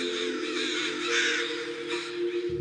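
Several crows caw harshly and repeatedly, overlapping in a noisy chorus that carries clearly through the whole stretch.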